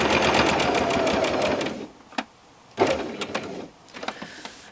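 Sewing machine stitching quilt binding, a steady close mechanical whir for about two seconds, then stopping, followed by a few short bursts and clicks of handling.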